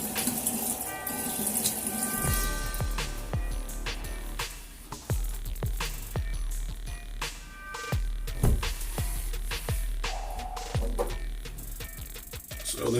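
Tap water running into a sink while a Ming Shi 3000S adjustable safety razor is rinsed after a shave; steady close splashing with intermittent knocks and clinks of the razor against the basin, no talk.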